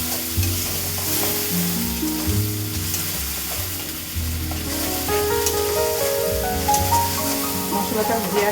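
A paste of cumin, coriander, turmeric, ginger and green chili fries and is stirred in a pan, with a steady sizzle and scraping under continuous loud music or background tones throughout.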